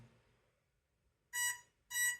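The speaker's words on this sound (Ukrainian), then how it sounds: "Дрончак вже там щось почав пищати." An FPV drone with a Gemini Xrossband link and Radiomaster Nomad module beeps after losing its radio connection during indoor kitchen tests, giving two loud, bright electronic beeps close by with a short pause between them.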